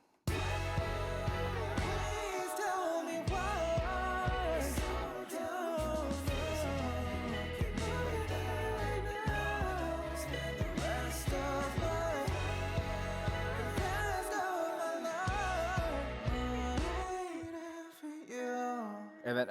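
A full song mix built around a vintage-toned clean electric guitar plays steadily, with layered chords and melody over bass and drums, dropping out briefly a few times, with no talking.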